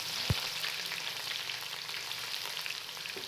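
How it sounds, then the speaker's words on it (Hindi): A large chopped onion sizzles in a cup of hot ghee for the tadka of sarson ka saag. A steady, close frying hiss runs throughout, with one brief clink near the start and no voices. "उसके अंदर एक लार्ज साइज़ का प्याज कट करके इसके अंदर शामिल कर दूंगी।"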